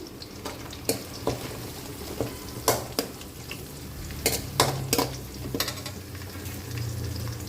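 Garlic and curry leaves frying in hot oil for a chicken pepper fry, a steady close sizzle punctuated by several sharp scrapes and clinks of a spoon stirring in the pan, with no talking.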